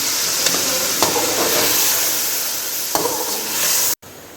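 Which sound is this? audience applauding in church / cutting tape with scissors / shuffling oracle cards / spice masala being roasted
spice masala being roasted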